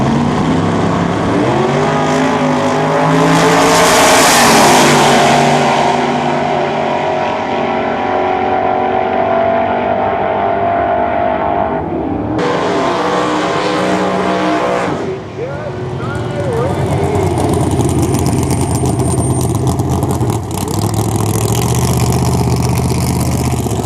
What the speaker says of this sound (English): In the Pontiac Tempest, taking on the Camaro here in the